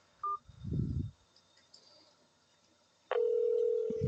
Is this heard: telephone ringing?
yes